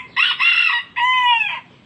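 A bantam rooster crows loudly and close by, its harsh, strained call coming in two sharp segments with a brief break between.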